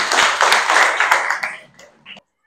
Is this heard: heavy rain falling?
no